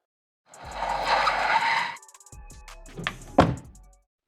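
A cartoon car drives up with a broadband rush, then its tires screech into a skid and it thunks to a stop, loud and close with no talking.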